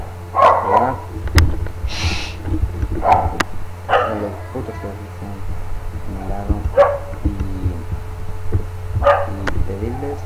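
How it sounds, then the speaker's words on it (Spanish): A dog barks in repeated bursts, close and fairly loud, between stretches of someone talking in Spanish. "es el puto perro."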